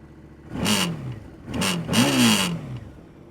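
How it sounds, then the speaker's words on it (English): A QJ Motor 650X motorcycle exhaust is revved three times nearby, each blip rising and falling in pitch, the last one longest and loudest, with a low idle between the bursts. "as we always have to do when we're talking about exhausts, we better hear them as well"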